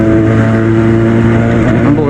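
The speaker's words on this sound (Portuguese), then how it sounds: "O ronco da moto tá doido, tá doido." A Yamaha FZ6 motorcycle engine drones loudly and steadily at close range with a deep, even, rotor-like hum, while someone talks over it.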